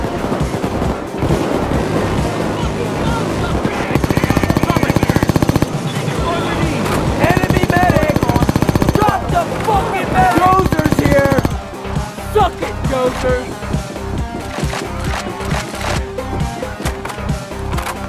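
Dense, rapid gunfire from the video game Payday 2, with an akimbo CMP build firing in loud continuous bursts over layered game sound and music throughout, shifting to choppier shots near the end.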